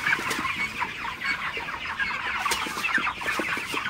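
Broiler chickens on a farm cluck continuously, many birds overlapping in busy, irregular bursts of short calls, close and fairly loud, with no speech.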